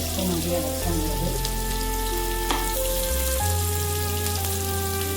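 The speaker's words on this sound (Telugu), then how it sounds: "లైట్ బ్రౌన్ వచ్చినంత వరకు వేయించి కొంచెం లైట్గా వేయిస్తే సరిపోతుందండి." Potatoes for aloo dum fry in oil until lightly browned, giving a steady, fairly loud sizzle with scattered crackles throughout.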